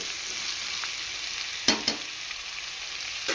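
Capsicum and potato curry being stirred in a pan, a steady frying sizzle with a couple of sharp spatula scrapes midway.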